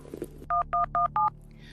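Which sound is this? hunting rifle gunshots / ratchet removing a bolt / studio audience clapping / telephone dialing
telephone dialing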